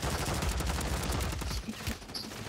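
Rapid, continuous assault rifle fire from a very fast-firing AR in the Call of Duty: Warzone video game, a loud, dense stream of shots with a brief drop in intensity near the end.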